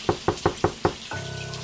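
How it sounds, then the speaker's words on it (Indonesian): Five firm, evenly spaced knocks land on a bathroom door, each a close, hollow rap. A steady humming tone follows right after the last knock. "Aku pun mengetuk kamar mandi itu."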